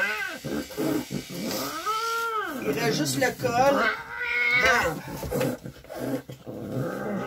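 A matted, aggressive cat yowls and growls in drawn-out, rising and falling wails while being groomed and shaved, close and loud, with people talking throughout.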